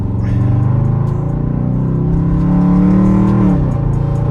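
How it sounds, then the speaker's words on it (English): A 2021 Dodge Durango R/T with a straight-pipe exhaust accelerates on a night road, its deep, loud engine drone climbing in pitch through the gears, heard from inside the cabin. "When I got this straight pipe, I just been going crazy in this car"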